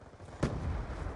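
Frag grenade explosion in Call of Duty Black Ops 2 multiplayer: a single sudden burst that swells briefly and blends into continuing low game rumble and background noise.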